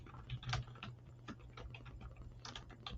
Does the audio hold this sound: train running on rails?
no